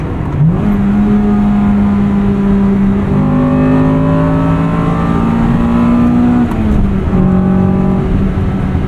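A 1998 Acura Integra Type R's VTEC engine revs hard from inside the cabin, its loud droning note climbing steadily through the gear, dropping briefly at a shift, then pulling upward again.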